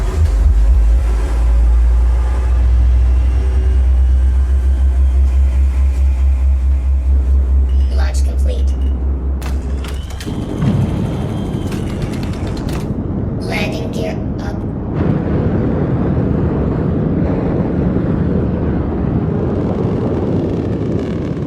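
The engines of an ARGO SRV spaceship in Star Citizen hum in a loud, steady drone, then shift midway into a rougher, airy roar with a few brief mechanical clicks.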